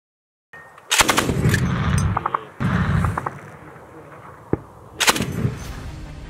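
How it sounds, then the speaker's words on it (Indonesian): Bursts of very rapid gunfire from a 23 mm shipboard Gatling gun firing 1000 to 2000 rounds per minute, loud and close, come in several long rattling volleys separated by short gaps, with a single sharp shot between them. "senjata Gatling ACV berkaliber 23 mm yang memiliki laju tembakan 1000 hingga 2000 putaran per menitnya"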